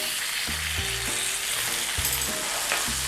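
Pork chops fry in a hot pan with a steady, close sizzle throughout, while a few low thumps and clatters from the pan and utensils break in now and then; no one speaks.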